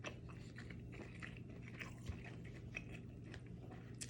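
Soft, close chewing and biting of steak from a steak, shrimp and rice plate, with repeated wet crunchy mouth sounds at a quiet level and no talk.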